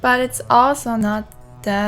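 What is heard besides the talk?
No distinct noise like a dog, phone or traffic.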